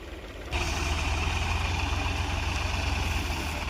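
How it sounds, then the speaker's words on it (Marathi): A John Deere tractor and two New Holland tractors idle together on a farm, the low, steady diesel rumble starting abruptly after half a second and holding constant and loud with no talk. "2 ट्रॅक्टर मागं, जॉन डियर पुढं, न्यू हॉलंड 2 मागं."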